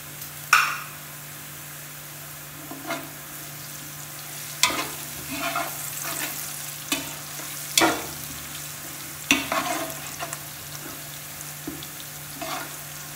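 Sliced onions and whole spices sizzle in hot oil for chana pulao, a soft steady frying hiss broken by sharp scrapes and clacks of a spoon stirring the pan every second or two, no voices.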